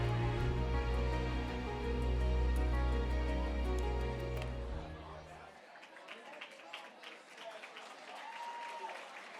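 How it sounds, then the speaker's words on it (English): An audience at a gala night applauds musicians, the sustained clapping strong at first and then fading into scattered claps and crowd chatter, with a voice speaking over it. "Can we please give another big round of applause to our very talented musicians?"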